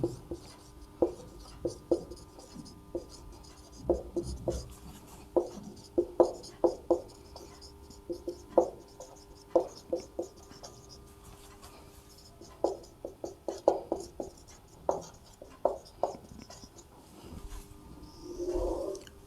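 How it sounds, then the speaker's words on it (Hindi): A formula is written on a board by hand during a maths class, producing repeated short scratchy strokes and taps in irregular bursts with brief pauses between them, close and fairly quiet against a faint steady hum. "इसका सूत्र मैं XYZ के रूप में लिख देता हूं।"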